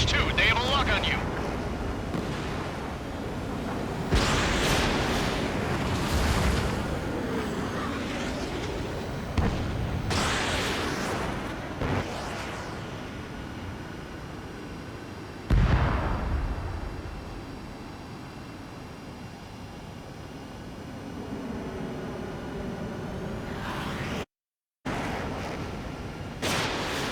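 Missile launches and explosions in the jet combat video game Ace Combat 7 come as repeated loud booming bursts over a constant rushing wind-like roar, with radio-style voices talking between blasts.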